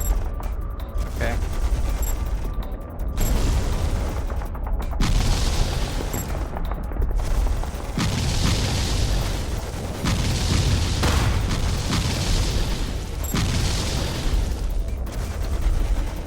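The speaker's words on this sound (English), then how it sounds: "Artillery works too." Artillery and gunfire in the military strategy video game EndWar Online: heavy booms and rattling volleys recur across the stretch, loud and continuous, with players talking over the battle.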